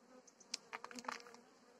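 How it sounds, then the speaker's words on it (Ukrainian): Grey honeybees at a hive during a cold, late spring give faint, brief buzzes, several short bursts overlapping close by against a quiet hum. "Бджола сіренька."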